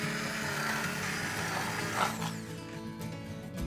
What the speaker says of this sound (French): Donc là, ma sauce, je vais la mixer.